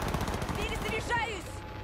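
Rapid automatic gunfire from the video game Cyberpunk 2077, dense continuous bursts with sharp electronic weapon tones, loud and close, running under a faint voice.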